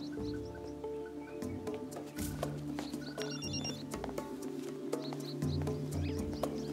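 Telephone bell ringing steadily through a scene from the French drama series The Wild, a continuous electronic trill over a low tonal background, with no one talking.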